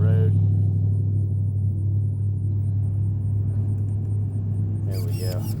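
A car passes on a road close by, its loud, steady engine and tyre rumble filling the whole stretch, with a brief voice-like sound near the end.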